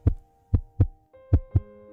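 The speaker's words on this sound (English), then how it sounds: "It's like a heartbeat, no?" A heartbeat-like sound effect during a wheel spin: five deep, soft thumps paired in a lub-dub rhythm, close and clean with a faint sustained tone entering midway, no talking.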